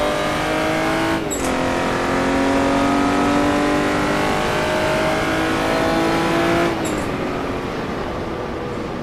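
A Jaguar D-type race car at Goodwood brakes and accelerates, its engine close and loud with a rising, throaty drone broken by two sharp gear changes, and no talk over it.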